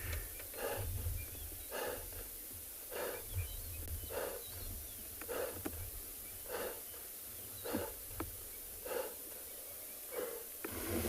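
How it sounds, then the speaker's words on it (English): A wild animal on a morning safari in South Africa panting heavily from exertion, rhythmic breaths repeating roughly every second, faint and steady over a quiet background hiss. "That breathing is just him panting from the effort he's exerting"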